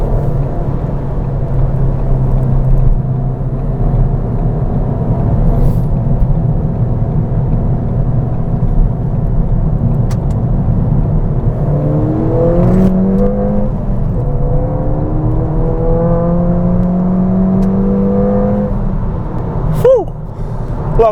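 A stock Ford Fiesta ST drives hard around a roundabout, its engine droning then revving up through several rising gear pulls, close and loud from inside the cabin, with a few faint bumps.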